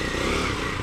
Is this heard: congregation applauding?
no